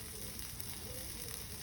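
Fish fries in oil on a flat griddle, giving a dense, even sizzle that holds steady and fairly faint throughout the brief moment, with no voices.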